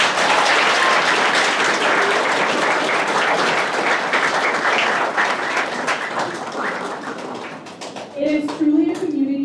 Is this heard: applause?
yes